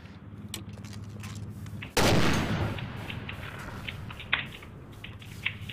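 A loud, close grenade launcher blast and gunfire in the video game Garry's Mod, a sudden heavy boom with a rumbling tail, followed by a few faint scattered shots over low background noise.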